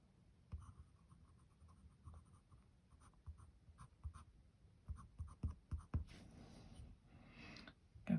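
A yellow graphite pencil scratches and rubs across paper close up, faint and uneven with soft strokes and short bursts of busier shading toward the end.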